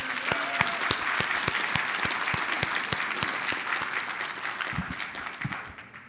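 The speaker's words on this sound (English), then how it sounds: "If we could just give a quick round of applause for his." Applause from an audience at a hematology panel session, with distinct individual claps audible within the steady clatter before it thins and fades out.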